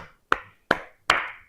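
Three sharp, evenly spaced claps ring out close by in a classroom, each with a short decay, the group of students striking hands together in unison with no talking.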